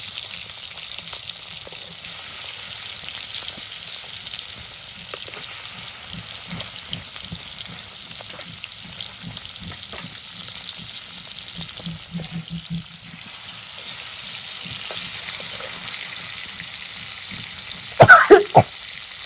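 Tilapia fish pieces fry in hot oil in a pan over a clay village stove, giving a steady close sizzle with stirring scrapes and a sharp knock near the end.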